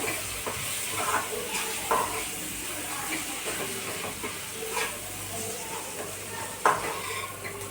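Rajma masala is stirred in a pan over a low, steady sizzle and hiss, with occasional clinks and scrapes from the utensil. A faint voice can be heard in the background.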